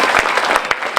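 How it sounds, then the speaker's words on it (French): A crowd at an opening ceremony in Cap d'Agde applauds loudly in a continuous wash of clapping for about a second, with a few sharper individual claps standing out. "je vous demande de l'applaudir"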